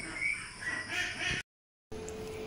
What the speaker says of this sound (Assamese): দেখিছেনে হাঁহৰ পোৱালি কেইটা কেনেদৰে মাতি আছে